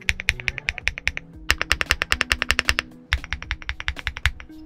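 Rapid typing on an Inky75 75% mechanical keyboard with unlubricated switches: close, crisp clacks in quick bursts with a brief pause midway and no talking.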